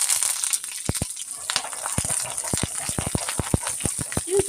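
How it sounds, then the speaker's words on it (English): Onions tipped into a hot frying pan for a steak and eggs breakfast sizzle and crackle close up, with a steady hiss and a scatter of sharp pops. "let me put some of these onions in here"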